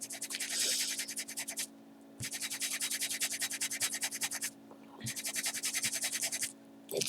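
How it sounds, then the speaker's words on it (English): An antique French bottle being hand sanded, with three long stretches of rapid, rhythmic back-and-forth scraping, loud and close, separated by brief pauses. "It sands right off."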